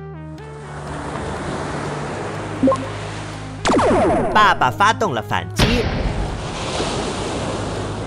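Cartoon ocean waves crash and surge as a robot mech is tossed about in an animated battle scene, with a voice narrating over the swelling water and sharp impact bursts midway through.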